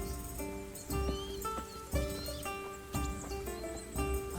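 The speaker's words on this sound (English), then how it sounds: "Ah, my faithful steed." A horse in the medieval game Kingdom Come: Deliverance gives a whinny and clops its hooves, mixed with game music and ambience over a few seconds.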